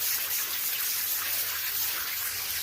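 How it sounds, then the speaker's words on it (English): Dyed fabric for a ranger cloak rinsed under running water, a steady, continuous gush and splash with no pauses, close by. "Rinse it out so the water runs clean or clear."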